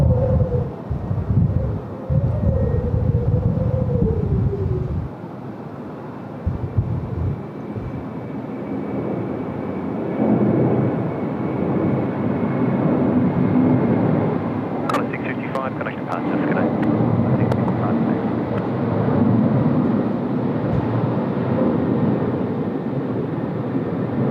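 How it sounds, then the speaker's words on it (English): A Qantas Airbus A330 jet at Sydney Airport on a windy night, a broad sustained engine roar rumbling throughout with wind buffeting, while people talk over it near the start. "Here we go. Qantas A330 bound for Perth."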